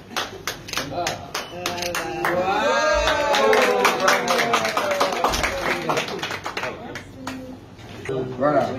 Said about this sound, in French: Voilà, on applaudit pour la dame.